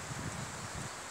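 Soft, continuous rustling of wind through pine tree crowns in a Ukrainian forest, a faint airy hiss with gentle swells, no voices.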